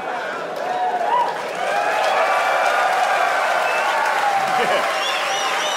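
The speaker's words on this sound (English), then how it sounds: "That's an applause break." Comedy club audience at a Shane Gillis stand-up show breaking into applause and cheering, a dense, loud wash of clapping and crowd noise with scattered whoops, sustained throughout.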